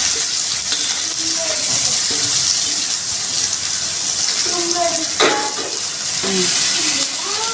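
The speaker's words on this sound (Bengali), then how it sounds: "পেঁয়াজটা লাল লাল করে ভেজে নেব।" Onion frying in a pan with bay leaf and cumin, a steady close sizzle with stirring scrapes and a brief burst of running tap water partway through.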